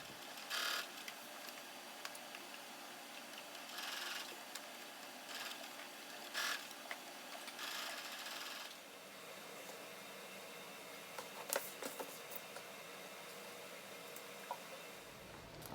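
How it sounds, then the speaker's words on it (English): A sewing machine stitches fabric, whirring steadily in short bursts with pauses between runs, then keeps a low continuous hum, fairly quiet and close, with no talking. "I'm going to take it to my sewing machine and sew them together"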